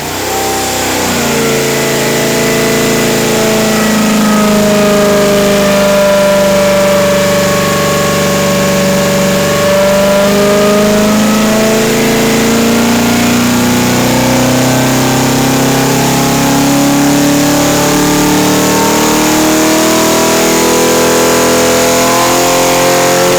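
A Pontiac 455 V8 engine running on a dynamometer in a test room. It rises into a loud, sustained rev and holds steady, with a deep droning tone that slowly shifts pitch, heard close with no talk.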